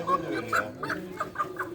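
Chickens cluck in short, repeated bursts at a busy poultry market, close and moderately loud over a murmur of background noise.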